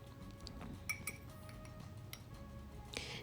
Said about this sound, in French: on va rajouter une cuillère à thé de sucre pour cette petite théière